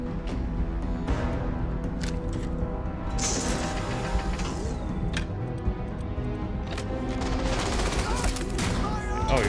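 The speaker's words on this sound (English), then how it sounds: "Oh, you're shooting at that guy." Sustained gunfire in a Starfield battle, dense continuous volleys of shots and impacts running throughout, loud and steady, with a voice speaking over the shooting.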